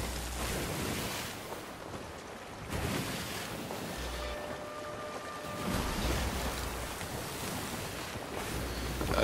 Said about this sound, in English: Rough seas.